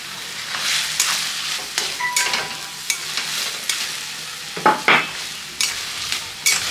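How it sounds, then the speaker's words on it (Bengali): A spoon stirs rui fish head muri ghonto with sugar in a pan, irregular scraping and clinking strokes with a soft sizzle underneath, close and moderately loud, with no talking. "এবার ভালো করে নাড়ায় নাড়াতে হবে"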